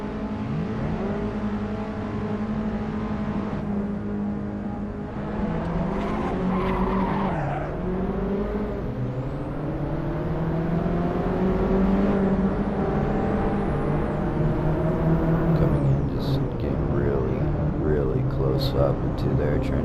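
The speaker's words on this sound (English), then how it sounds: "Going too late into this corner, braking, really just losing the race there." Assetto Corsa race car skidding and squealing its tires under braking into a corner, with engine revs rising and falling throughout, loud and close, while someone talks over it.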